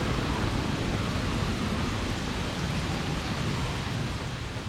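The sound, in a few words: thunderstorm with rain, from a cartoon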